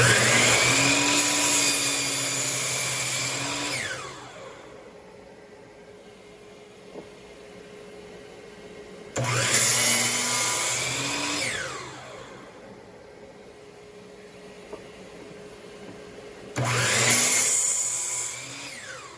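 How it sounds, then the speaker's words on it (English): A Hercules 12-inch compound miter saw with dust collection cuts a 2x4 three times: each time the motor whines up loudly, bites through the wood, then spins down over a few seconds, with quiet pauses between the cuts. "Okay, so I made 3 cuts into a 2x4"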